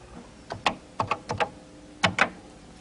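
Keys click on a computer keyboard in short uneven bursts of two or three taps, crisp and close with quiet pauses between them.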